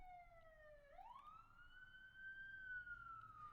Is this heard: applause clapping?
no